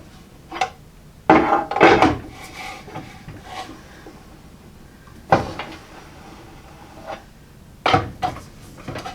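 A four-way lug wrench loosens bolts on a rusty Jeep Wrangler YJ, giving several short, close scraping and creaking bursts separated by quiet pauses, with no talking.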